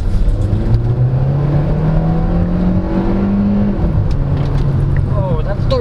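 A 2024 Kia Seltos SX's turbocharged engine accelerating hard, its steady droning pitch climbing as it revs up, loud and close throughout.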